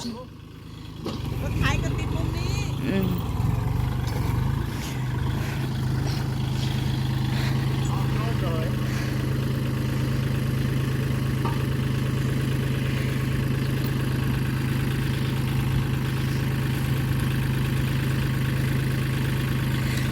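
A tractor idles nearby in a rice field with a constant low, droning hum that holds steady throughout, with faint clatter starting it off.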